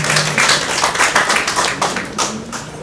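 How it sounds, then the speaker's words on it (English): A crowd at a police change-of-command ceremony applauds a police major, loud, close clapping with individual claps standing out in a dense, continuous patter. "let us give him another round of applause, please"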